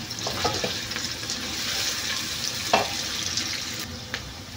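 Garlic sautéing in a pan with onions and ginger for chicken tinola gives a steady, fairly loud hiss of frying, with a few soft clicks and stirring scrapes breaking through and no talking.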